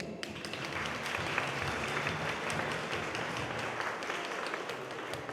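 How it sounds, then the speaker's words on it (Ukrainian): An audience at a university student initiation ceremony applauds steadily, a dense, even wash of many hands clapping, moderately distant and continuing throughout. "І тож давайте один одного привітаємо щирими оплесками"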